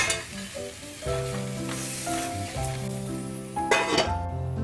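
Sweet potatoes cook in a covered pot over very low heat, giving off a quiet, continuous sizzle with soft crackles rising and falling.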